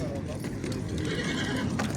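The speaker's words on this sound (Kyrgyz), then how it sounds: "Охо, аттар жака келип калдык." Horses at an outdoor livestock market near Bishkek, with a whinny rising over steady crowd chatter and clip-clop hooves, all fairly close and continuous.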